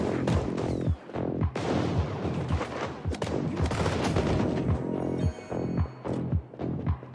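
Rapid bursts of gunfire and explosions from the mobile shooting game Squad Alpha on Android, loud and near, repeating in steady thumping volleys with short gaps between them.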